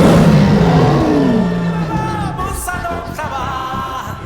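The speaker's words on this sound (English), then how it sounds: "he roars before the lionesses to become the new Lion King" Simba roars before the lionesses in The Lion King (2019): a long, loud, deep roar that slides downward and tapers off, followed by a softer rumbling tail with swelling orchestral tones.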